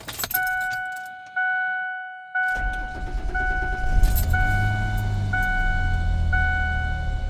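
A door chime pings at a steady rhythm, then a car engine with misfires from worn spark plugs cranks and catches, idling roughly with an uneven rumble underneath the repeating chime.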